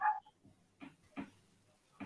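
A dog barks a few times in short separate bursts, faint and distant, in the background of a home live chat about speedway racing.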